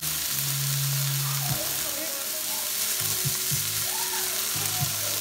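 Mahi mahi fillets coated in Caribbean jerk seasoning sautéing in a pan, a dense, even hiss of frying with a few low thumps and shifting tones, steady and close throughout.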